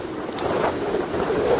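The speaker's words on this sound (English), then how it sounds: "No, it's just windy, Kaz. Really windy." Strong wind buffets the microphone at the seaside in Rustington beside a rough sea, a dense gusting roar that swells and eases over a brief, continuous stretch with no talking.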